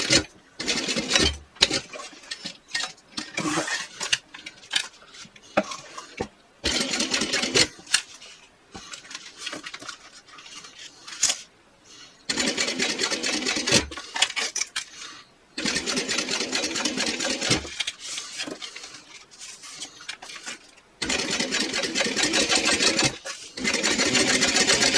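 A sewing machine stitches a bag seam in loud, close bursts of rapid whirring and needle clatter, stopping and starting several times with short pauses between runs.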